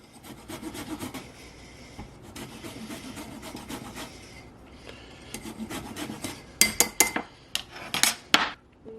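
A lemon is rubbed against a metal grater to take off the zest, producing repeated rasping scrapes close up, softer at first and then sharper, louder strokes toward the end.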